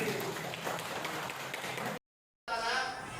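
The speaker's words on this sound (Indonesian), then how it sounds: "Beri tepuk tangan untuk kami." An audience claps in a dense, steady wash for two seconds, then a short dead silence, then the clapping resumes.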